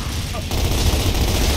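Loud, close gunfire from Gears of War rattles in a dense continuous burst, swelling after a brief lull and running to the end, with a voice present.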